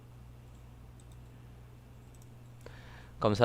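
A single soft computer mouse click in a quiet room with a low hum, followed by a louder burst as someone begins to speak.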